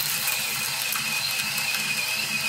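Coffee beans feed through the chute onto the burrs of a Varia VS3 grinder at a fine setting, a steady, close whirring grind with a faint high whine and fine rattling, continuous and unbroken.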